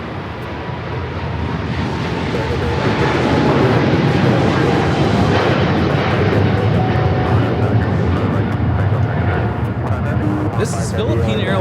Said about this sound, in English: 113 taking off to Manila on the 777-300ER